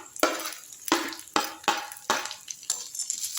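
Roasted gram (pottukadalai) being stirred and sautéed in a pan, giving a series of close, crisp scraping and rattling strokes roughly every half second, moderately loud with a light sizzle underneath and no talk.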